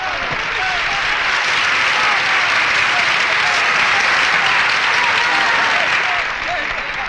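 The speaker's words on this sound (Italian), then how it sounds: "È piaciuta! Applaudivano!" Sustained audience applause from a crowd at a staged comedy-musical show, dense clapping filling the clip at steady loudness and easing slightly near the end.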